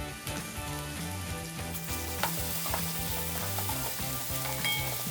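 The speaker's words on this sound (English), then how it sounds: "add in your crushed garlic" Crushed garlic sizzling in a pan with onions, leek, oil and butter, a steady loud frying hiss with occasional stirring clinks, close and continuous without speech.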